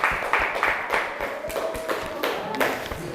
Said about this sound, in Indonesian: Kasih aplaus untuk kelompok Cikiwir